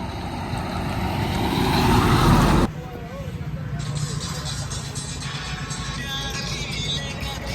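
A tempo mini truck rumbles past on a road, loud and close as it swells and then cuts away, leaving quieter traffic hum with people talking over it.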